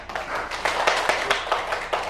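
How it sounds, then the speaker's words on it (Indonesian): Pupils in a classroom applaud a classmate, a brief burst of quick, fairly loud clapping with uneven sharp claps over a busy room murmur. "Tepuk tangan dulu buat teman kita."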